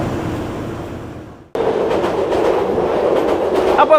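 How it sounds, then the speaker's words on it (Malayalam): A metro train rushes past beside a parking lot. Its loud, steady rumble and rhythmic wheel clatter swell suddenly, with a faint squeal toward the end. "ഇതാണ് തൊട്ടപ്പുറത്ത് മെട്രോ പാഞ്ഞു പോണുണ്ട്"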